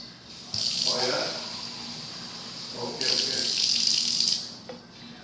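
Water from a tap runs in two bursts, filling a glass, each a steady hiss lasting a second or two, with a quiet pause between and a small knock at the end.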